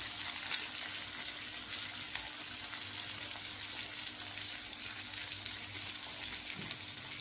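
Fish frying in a pan with raw garlic oil, a steady close hiss and crackle of hot oil running evenly throughout.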